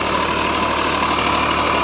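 Close up, the diesel engine of a 2018 Massey Ferguson 245 DI tractor labours steadily while ploughing a field with a subsoiler, a loud unbroken rumble without voices.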